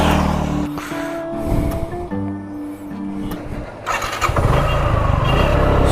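A Suzuki Gixxer FI ABS motorcycle with a 12-litre tank is started nearby: a whining, tonal cranking gives way to the engine catching and running with a louder, rough idle.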